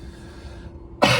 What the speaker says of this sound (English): that's my man flu situation at the minute, is just a little cough